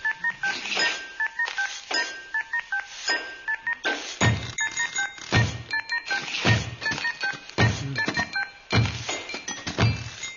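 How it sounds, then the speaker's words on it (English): A rhythmic beat built from thunks, clinks and slams of office and warehouse objects such as coffee cups, stamps and a telephone, with telephone keypad tones and ringing beeps woven through the pattern. "it is played entirely on stuff you would find in an office or a warehouse"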